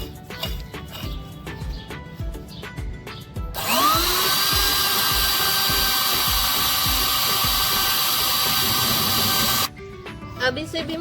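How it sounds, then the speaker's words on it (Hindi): An electric grinder whirs loudly and steadily for several seconds, grinding moringa with cumin and carom seeds, with a voice speaking before and after. "जीरा और अजवाइन जिसको लीमू के साथ खुश्क करके रखा था वो भी जो सुहांजना बकाया बच गई है मोटी मोटी, उसी के साथ मैं इसको डालकर ग्राइंड कर लेती हूँ"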